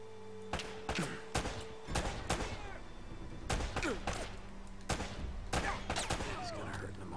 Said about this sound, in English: Where the fuck are they shooting me from?